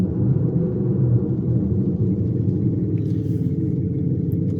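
A GLYDSPHERE active exhaust sound system on an electric car plays a synthetic engine sound through its speaker: a loud, steady, deep rumble that drones on without a break.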